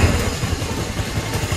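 A motorcycle engine idles steadily after a Bendix starter drive repair, giving a close, loud, even low rumble with a fast pulsing beat and no talking.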